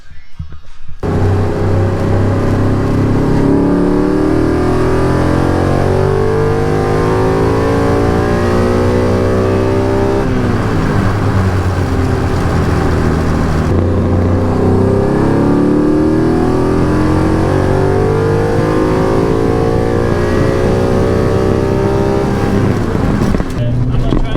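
A car engine revs hard and steadily for a long pull during tuning test pulls after a fuel pump swap, pitch climbing in repeated sweeps, loud and close throughout.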